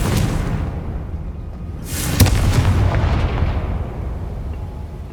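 Spell explosions from the Confringo fire spell in the PS5 game Hogwarts Legacy, a continuous rumbling barrage with one sharp blast standing out near the middle, loud and close.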